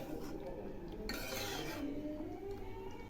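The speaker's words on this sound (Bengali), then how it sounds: "এখন আবার একটু নেড়ে দিচ্ছি।" A spoon stirs pumpkin and moong dal in a cooking pot, giving soft scraping and faint clinks against the metal, quiet and close, with one brighter scrape partway through.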